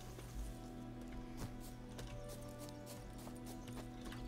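Roach, Geralt's horse in the video game Witcher 3, walking with steady, soft clip-clopping hooves over a constant low ambient bed, quiet and somewhat distant, with no voices.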